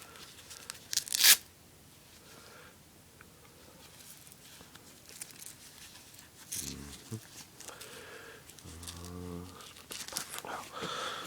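Velcro cuffs on an army jacket tear open in a sharp, close burst lasting about a second near the start, with quieter rustling and a couple of brief vocal sounds afterward.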